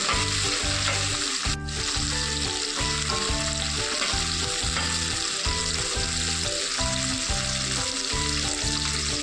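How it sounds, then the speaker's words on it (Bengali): Onions frying in a pan with a steady sizzle and a rhythmic scraping of stirring repeating throughout, close and continuous. "পেঁয়াজগুলো কিন্তু আমি লাল করে ভাজবো না, পেঁয়াজগুলো হালকা আমি ভেজে নেব"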